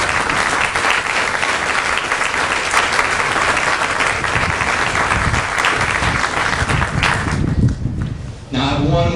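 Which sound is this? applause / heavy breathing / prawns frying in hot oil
applause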